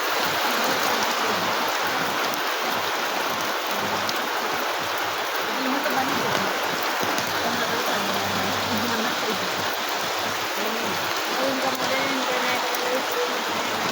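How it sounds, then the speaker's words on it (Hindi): Rain falls all around during the first monsoon rain, a steady, dense hiss of water filling the whole scene, with a voice speaking faintly underneath partway through. "चारों तरफ बारिश हो रही है।"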